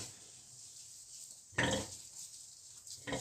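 Soft, close grunts of newborn piglets suckling at a sow come in two short bursts over a quiet background hiss, snuffling and grunting.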